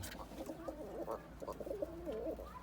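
Soft, repeated rolling coos from a pigeon in a coop, close and low, continuing in a steady murmuring pattern.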